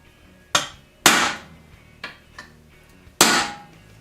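A hammer strikes a metal punch several times at uneven intervals, sharp ringing impacts, two of them much harder than the rest.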